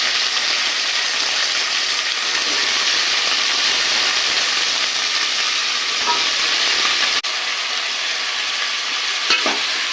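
Chopped vegetables hiss loudly in a hot pan while they are stirred. The sizzle is steady and close, with a brief scrape near the end and no talking.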